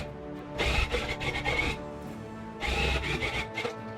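A cut pile tufting gun fires white yarn into a rug in two long buzzing, rasping bursts separated by a short pause, close and fairly loud.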